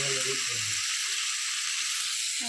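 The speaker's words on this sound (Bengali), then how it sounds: "ডিম তরকারি করব তাই এই সবজিগুলোকে ভালো করে কষিয়ে নিচ্ছি" Vegetables, including potato, sautéed in a pan for an egg curry give a steady, close hiss of frying throughout, with a brief stretch of talk over the first second.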